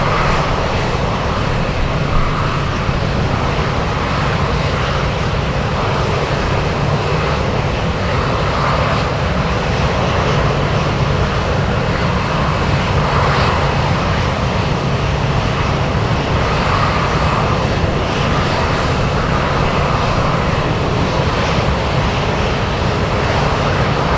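A jet aircraft roars steadily on takeoff at Anchorage airport, a loud, continuous engine rumble that holds without a break for the whole stretch, with no voices over it.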